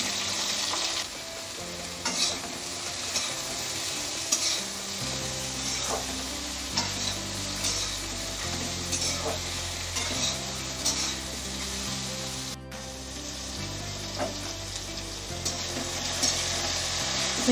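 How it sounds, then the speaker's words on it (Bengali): Sliced ridge gourd and potato frying in a pan give a continuous close sizzle, punctuated by scrapes and clinks of stirring throughout. "দেখুন ঝিঙে আর আলু ভেজে নিয়েছি।"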